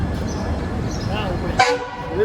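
A passenger train horn sounds once, briefly, over rumbling rail noise, while a person talks close by.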